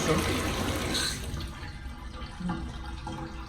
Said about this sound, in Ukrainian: І дивись, така і напор здоровий води біжить.